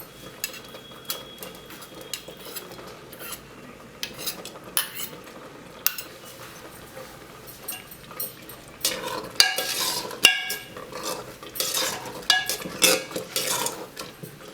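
Ghee added to sweet pongal with jaggery in a pot, then stirred: metal spoon scrapes and clinks against the pot in uneven bursts, growing busier and louder toward the end, with light sizzling beneath.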